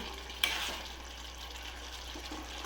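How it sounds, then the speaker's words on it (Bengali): Spice paste being sautéed and stirred in a pan for prawn achaari gives a soft, continuous sizzle, with a light clink near the start as it is stirred. "যে মশলা কষেছে, আর একটু হবে"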